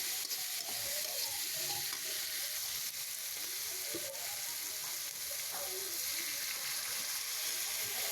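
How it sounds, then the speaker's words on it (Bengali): Spice paste with ginger, nut paste and garam masala sizzles steadily in a hot pan, a continuous close frying hiss broken by soft scraping as it is stirred. "তো আমি ভালো করে ভাজা ভাজা করে নিব এটাকে"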